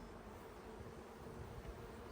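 Honey bees buzz at the entrance of a hive during a nuc transfer, a faint, continuous insect drone with no voices, steady and low in level across the whole moment.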